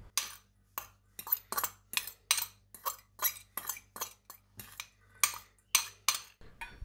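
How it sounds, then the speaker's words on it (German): A spoon stirs prepared filling ingredients in a bowl, with rapid, regular scraping and clinking strokes repeating close up, loud and alone. "jetzt geben wir die ganzen vorbereiteten Zutaten in die Schüssel hinein und rühren das Ganze richtig gut durch"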